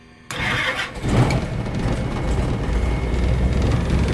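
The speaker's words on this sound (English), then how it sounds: "And I will leave this throttle levers about 1/4 inch open. And starter left side on." The left engine of a Britten-Norman Islander aircraft is hot started, with a sudden cranking burst that catches into a steady, loud, close engine roar.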